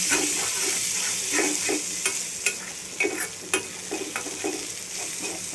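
Small ground shrimp sizzle steadily in a hot pan in a home kitchen, with repeated scraping stirs of a spatula clicking against the pan over the continuous frying hiss.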